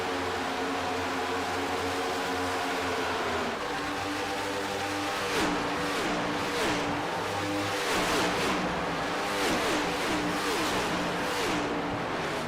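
Race car engines roar steadily on an oval track in a racing video game at Chicagoland, several cars droning together with rising and falling revs throughout, loud and continuous.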